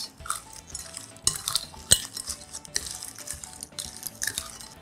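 Fresh seafood seasoned with finely minced garlic, coriander, salt and black pepper is stirred and tossed for a seafood cream soup, giving repeated close clinks and scrapes of a utensil against a dish with no speech.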